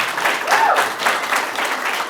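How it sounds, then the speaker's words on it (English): Audience applause fills a town hall meeting in Mint Hill, North Carolina, steady clapping from a crowd throughout, fairly loud and close, with no talk over it. "you got 2 rounds of applause"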